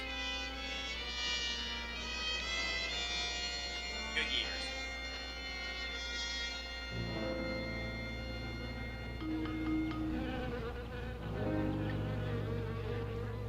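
Bees buzz in a 1959 film soundtrack, a steady insect drone running under music, with the texture shifting about halfway through as lower tones join in.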